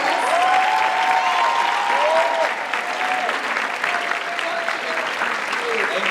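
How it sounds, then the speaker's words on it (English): Comic-Con panel audience at SDCC 2018 applauding the cast of Siren, loud sustained clapping mixed with cheers and whoops throughout. "Let's give a round of applause for everybody throughout the cast."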